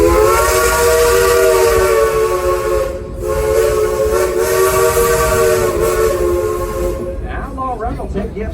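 The Silver Dollar City Frisco steam train sounds a loud, sustained whistle at an amusement park, a chorded steady tone with hissing steam that holds for about seven seconds before cutting off into chuffing and hiss.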